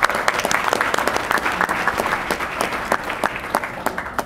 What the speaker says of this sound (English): All of us here deserve a round of applause